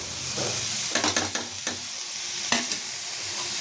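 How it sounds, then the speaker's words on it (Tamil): A spoon stirs a vegetable curry with masala in a pan, giving several scraping strokes over a soft background sizzle, close and fairly loud, with no voices. "இதையும் எல்லாம் சேர்த்து கிண்டி விடுவோம்"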